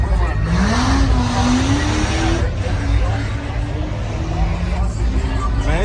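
Loud engines rev and tires squeal at a crowded car meet, where one rising whine climbs over a dense roar and a chattering crowd and nearby voices carry on throughout.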